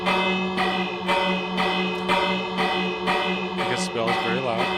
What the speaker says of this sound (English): Because the bell is very loud.